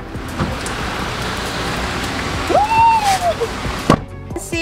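Steady rain patters softly on a car while driving, with a short whistling tone that rises and falls midway and a sharp tap near the end.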